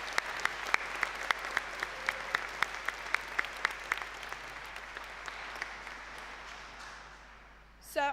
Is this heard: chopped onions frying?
no